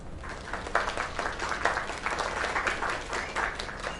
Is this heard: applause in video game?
yes